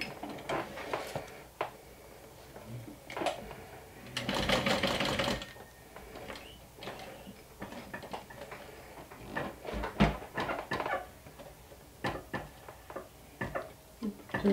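Sewing machine stitching a one-inch square on a saddle-style crossbody bag: soft, quick ticking needle strokes in short bursts, with one longer dense run of stitching, quiet and close.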